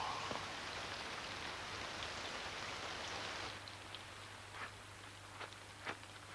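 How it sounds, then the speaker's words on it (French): Steady rain falling in foggy outdoor surroundings, a dense continuous hiss with a few louder drops standing out near the end, at moderate distance with no voices. "Voilà qu'il pleut maintenant."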